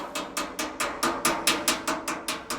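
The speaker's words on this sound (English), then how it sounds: "use a hammer and dolly to smooth out any wrinkles." A hammer strikes sheet metal held against a dolly to smooth out wrinkles, about eleven sharp, ringing metallic blows at a steady, even rhythm, close and loud with nothing else heard.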